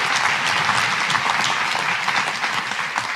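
Applause from the crowd at a college opening day address, dense continuous clapping, loud and steady throughout.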